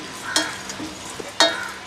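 Quiet sizzling of spices dry-roasting in a heated pan for Thalassery chicken biriyani, with a couple of sharp scraping strokes of a spoon stirring, close by.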